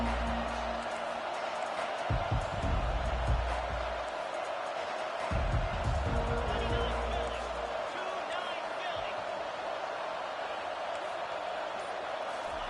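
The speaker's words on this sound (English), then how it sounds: "This crowd bringing an ear-splitting welcome to their visitors." Stadium crowd in a Madden football video game, a steady broad roar filling the background with heavier rumbling swells, under continuous commentator speech.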